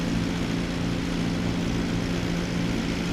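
Steady droning propeller engine of a Lancair Legacy RG light aircraft in X-Plane 11, a continuous low hum with a strong tonal band, even and unbroken throughout.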